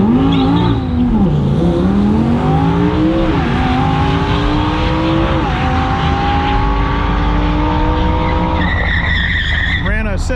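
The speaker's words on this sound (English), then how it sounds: "We got an Audi R8 V10, and we're hoping this one makes a fast pass." Audi R8 V10 accelerating hard on a drag strip pass, a loud, continuous engine note climbing through repeated gear shifts, with voices heard near the end.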